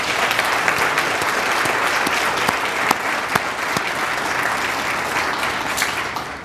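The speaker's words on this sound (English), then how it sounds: "let's give them a big round of applause." Sustained audience applause for a retiring class of school staff at a retirement tea, dense and steady throughout with a few sharper individual claps standing out.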